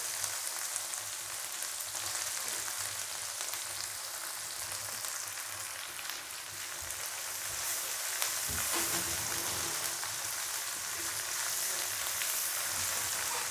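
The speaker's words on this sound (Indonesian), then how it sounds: "Kita goreng bawang merahnya terlebih dahulu." Shallots fry in hot oil in a pan, a continuous close crackling sizzle that stays steady, with faint stirring scrapes and no voices.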